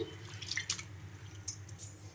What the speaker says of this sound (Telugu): బాగా కడిగేసుకున్న తర్వాత వాటర్ని వంపేసుకొని